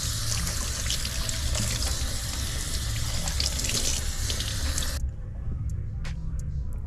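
Tap water runs steadily into a sink, rinsing defrosted redfish, a loud broadband splashing stream that stops abruptly near the end, leaving a quiet room with faint clicks.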